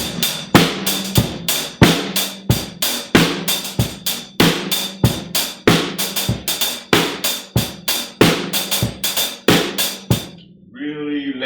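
Drum kit lays down a laid-back, funky Memphis-style groove, with evenly spaced punchy hits over roughly ten seconds, close and loud, before a brief burst of other sound at the end.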